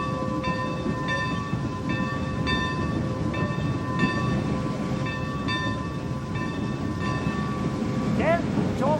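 California Skunk Train rolling toward Fort Bragg: a steady, close rail rumble under repeated ringing bell tones, with a rising whistle-like squeal near the end.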